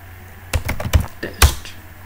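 A short command typed on a computer keyboard, a handful of sharp, close keystrokes in an uneven rhythm, with a louder final key press like Enter, alone without talk.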